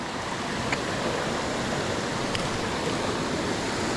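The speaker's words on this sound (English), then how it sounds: "that's a waterfall" A waterfall in the North Carolina mountains gives a steady, full rushing roar of falling water, constant and fairly loud throughout, with no speech.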